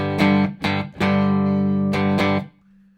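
Clean electric guitar through a buffer with a JHS Moonshine overdrive pedal in the chain but switched off, four loud strummed chords with the last one ringing out, then a low hum.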